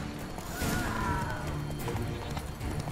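A horse gallops in The Witcher 3, with rhythmic hoofbeats and a whinny. Fighting sounds and a voice are mixed underneath, all at a moderate level.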